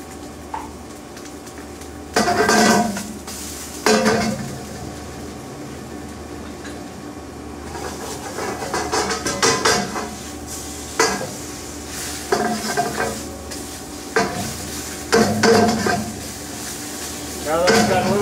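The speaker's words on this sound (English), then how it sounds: "it's important to sear your tomato paste" Tomato paste searing in a pot for a lamb shank dish, with sizzling under repeated bursts of spoon scraping and stirring against the metal, fairly loud and close.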